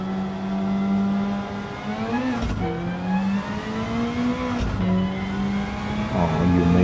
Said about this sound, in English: you may hear the sound of huge turbo. This turbocharger sounds awesome.